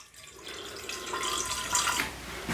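Warm water being poured for sweet roll dough, a soft steady trickle like a running tap that holds quietly for a couple of seconds with no one speaking.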